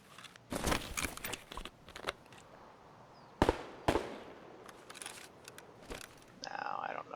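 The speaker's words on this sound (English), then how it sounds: "Sounds like there's somebody shooting down at the gas station" Gunfire in the shooter game Escape from Tarkov, several sharp, distant-sounding shots in uneven bursts with quiet gaps between, set against low ambient game noise.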